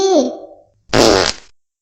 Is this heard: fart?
yes